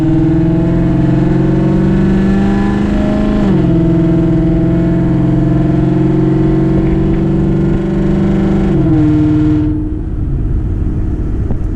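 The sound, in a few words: Ford Mustang S550 with loud exhaust accelerating in sport mode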